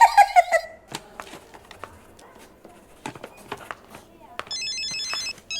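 A mobile phone rings inside a hospital ward, its electronic ringtone pattern audible near the end among scattered clicks, footsteps and brief voices.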